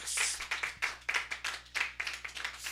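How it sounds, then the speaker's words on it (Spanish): Loud, rapid clapping from a church congregation applauding Jesus at the close of a service, a dense burst of many hands lasting throughout. "Dale un aplauso fuerte a mi Jesus."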